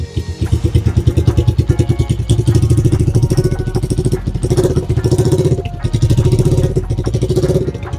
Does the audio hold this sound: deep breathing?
no